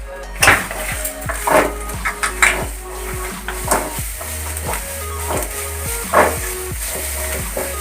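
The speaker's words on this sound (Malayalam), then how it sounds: "കുറച്ച് ഓയിൽ ഒഴിച്ച് നമുക്കത് ബ്രൗൺ കളറാവണ വരെ ഒന്ന് വറുത്തെടുക്കാം" Oil sizzles steadily as whole spices fry in a hot pan, with repeated metallic scrapes and taps of a spoon stirring throughout; no voices.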